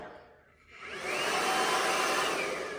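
A Martino Freestyle Systems Turbopower blow dryer switches on after a quiet moment, its airy motor rising quickly into a loud, steady close whoosh that holds to the end.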